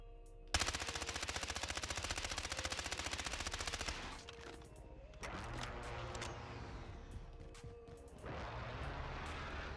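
Rapid automatic bursts from an ISO submachine gun in the video game Warzone, starting with a long sustained volley, then shorter bursts after pauses, all loud and close.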